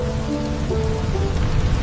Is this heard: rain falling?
yes